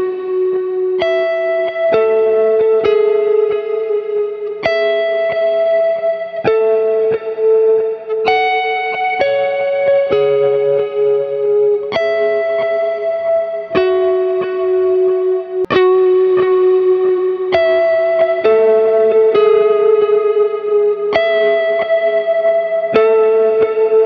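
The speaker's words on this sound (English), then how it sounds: "I'm gonna dial in a pretty subtle vibrato setting that I really like to use" Electric guitar playing a steady chord pattern with a wavering vibrato effect, notes gently pulsing in pitch, loud and continuous with some reverb.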